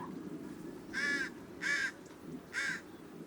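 A crow caws three times in a slow, evenly spaced sequence, clear and moderately close over a faint background with no talk.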